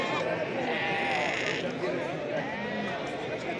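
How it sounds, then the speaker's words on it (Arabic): Sheep bleat amid the steady crowd murmur of a weekly Monday livestock market in Sraghna, Morocco, a wavering cry rising over continuous chatter and background bustle, with people talking nearby. "هذا راه خروف مليح"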